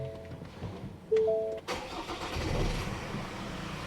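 A Ford Ranger Raptor pickup starting up: a brief cranking whine, then the engine catches with a sudden louder burst and settles into a steady, close idle rumble.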